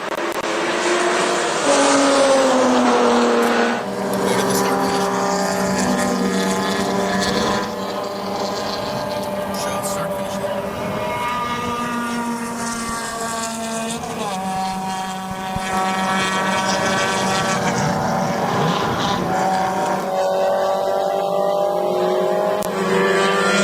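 Race cars, including a spec BMW E46, howl past at Sonoma in a US Touring Car Championship round, with loud, close engine notes rising and falling through gear changes as several cars pass in succession.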